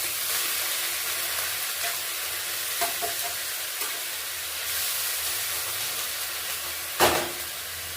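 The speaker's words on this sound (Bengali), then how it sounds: "পেঁয়াজটা একটু ভেজে নেব।" Onion paste frying in oil in a wok after cumin tempering, a steady close hiss and sizzle with faint stirring scrapes and one sharper burst near the end, no voices.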